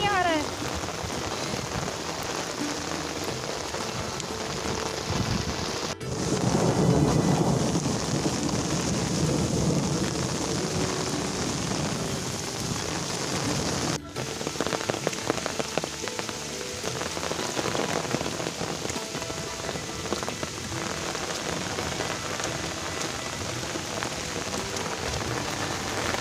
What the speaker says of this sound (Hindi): ये देखिए इतनी तेज बारिश हो रही है, वो भी तिरछी बूंदों वाली, अंदर ही पानी आ रहा है।